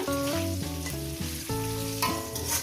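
Frying in a pan while cooking fish head with kochur loti (taro stolons), a steady sizzling hiss running beneath louder melodic background music for the whole stretch.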